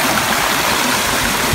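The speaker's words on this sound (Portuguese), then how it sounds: "Uma cachoeira, uma mini cachoeirinha." A small waterfall in a park pond pours with a steady, close, hissing splash of falling water, continuous throughout the short stretch.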